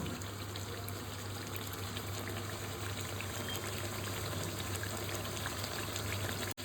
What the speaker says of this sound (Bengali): আমি পরিমাণ মতো জল দিলাম, কারণ আলু জল টানে তোমরা জানো।